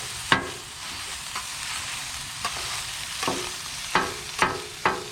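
Food fries on a Blackstone griddle at a campsite breakfast, a steady close sizzle broken by several sharp scraping and stirring clacks of a spatula against the metal surface, with no talking.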